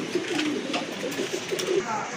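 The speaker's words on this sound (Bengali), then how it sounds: "খুব ভালো ডাকে অ্যাক্টিভ আর ফ্রেশ কবুতর" Lahori pigeons cooing in soft repeated low notes, close by, with background voices and shuffling mixed in.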